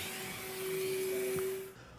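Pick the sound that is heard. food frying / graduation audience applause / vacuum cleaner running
vacuum cleaner running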